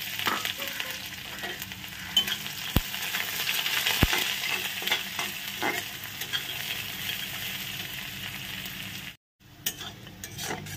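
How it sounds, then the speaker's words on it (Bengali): Onion, green chili and garlic frying in hot oil, a steady close sizzle with occasional spatula clinks and stirring, continuing for several seconds before a brief cut-out and then resuming. "দিচ্ছি পেঁয়াজ, কাঁচা লঙ্কা, রসুন। এই 3টে জিনিস দিয়ে সুন্দর করে ভেজে নেব।"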